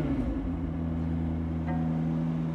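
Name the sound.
McLaren 750S Spider engine starting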